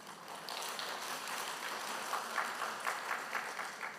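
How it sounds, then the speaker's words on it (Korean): A hall full of senior audience members applauds at a summer church camp gathering in Gangneung, with steady, moderately distant clapping spread across the room and no voices on top. "무슨 얘기를 하든지 감동이 되면 막 박수를 쳐주시니까"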